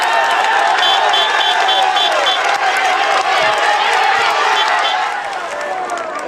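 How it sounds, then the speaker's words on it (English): A roaring crowd cheers along the road near a Tour de France stage finish, loud continuous cheering and clapping with whistles and horns mixed in, easing slightly toward the end. "The crowd is in a frenzy."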